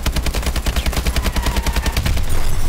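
Rapid, rhythmic bursts of automatic gunfire from the Call of Duty Advanced Warfare campaign, loud and sustained throughout with no pauses and no talking.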